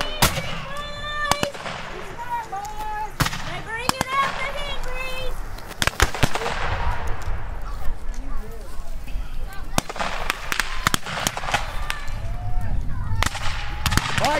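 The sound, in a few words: gunfire and cannon fire at a Civil War reenactment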